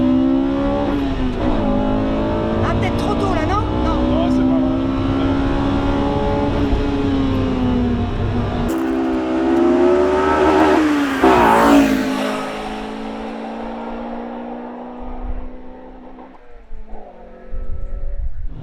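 An Acura Integra Type R engine revs steadily at high pitch, rising and falling with acceleration, then eases off and drops away near the end.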